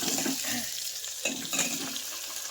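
Cumin and mustard seeds crackle and spit in hot oil with crushed garlic going in, a close, steady sizzle broken by a few sharper pops and stirring scrapes.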